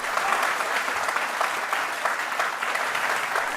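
A studio audience on the Telugu Aap Ki Adalat show bursts into continuous, dense applause, a loud and even clapping roar lasting the whole moment.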